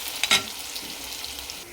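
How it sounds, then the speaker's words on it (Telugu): Onion and green chili pieces fry in a pan for chicken fry, giving a soft continuous sizzle with a brief louder stir or clatter near the start. "అదే ప్యాన్లో కొన్ని ఉల్లిపాయ ముక్కలు, పచ్చిమిరపకాయ ముక్కలు వేసి వేపుకోవాలి"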